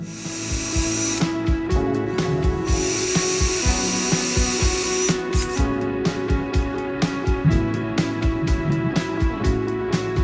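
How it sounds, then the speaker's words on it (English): An impact driver drives screws into wood while a jet ski dolly cart is built. Close, loud bursts of rapid hammering start and stop repeatedly, with high ringing whirs between short pauses. "about thumb placement and hand placement when you're using this impact driver"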